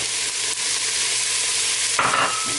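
Ginger and garlic tossed into onions frying in a pan for carrot and coconut soup, a steady close sizzle with a brief louder burst of hiss as the ingredients drop in.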